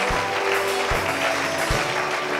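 A church congregation claps and cheers in praise, a dense, loud wash of applause and voices with a few heavy low thumps recurring roughly every second.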